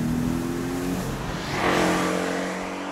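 A Porsche 718 Boxster or Cayman's turbocharged four-cylinder engine revs loudly and close up, its note holding steady and then surging upward in a short burst with no talk over it.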